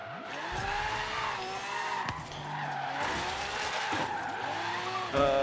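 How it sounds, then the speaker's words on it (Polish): A Lamborghini Centenario drifts in the video game Forza Horizon 3, its tires squealing in long sweeping skids over the engine's revving drone, with repeated rising and falling squeal tones and a sharp burst at the end. "Będziemy musieli kilka razy podejść do tego driftu, widzę."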